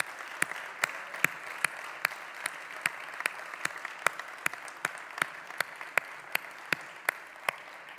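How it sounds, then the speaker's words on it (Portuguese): Gala audience applauds three honored presenters at a TV awards ceremony, a steady roomful of clapping punctuated by one person's loud, evenly paced claps repeating through the whole stretch. "Uma salva de palmas para eles"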